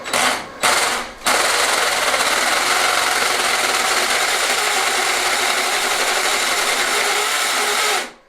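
A hammer drill with a masonry bit bores into masonry up close, widening a hole for a pipe: two short bursts, then a loud, continuous grinding run that stops abruptly.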